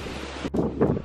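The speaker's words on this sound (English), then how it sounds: "I just want to show you guys how windy it is." Steady, rumbling wind buffets the microphone throughout, with gusty swells and no voices.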